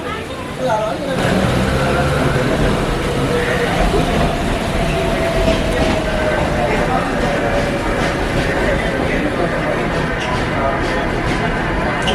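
A New York subway train rumbles steadily past a station on the line to Flushing, a loud continuous roar with a rising metallic squeal of wheels throughout.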